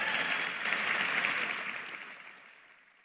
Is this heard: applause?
yes